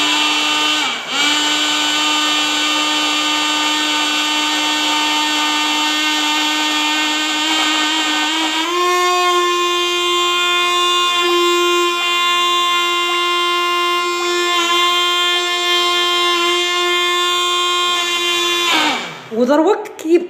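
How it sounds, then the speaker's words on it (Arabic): A hand blender whirs steadily as it emulsifies homemade mayonnaise, a loud sustained motor whine that shifts pitch partway through as the mixture thickens, then cuts off near the end. "لما نضغط راح نضغط باش نطلع المايونيز، ما راحش نحرك البغا ميكسور راح نخليه ثابت في بلاصتو"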